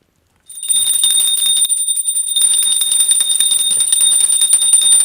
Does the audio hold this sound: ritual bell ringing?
yes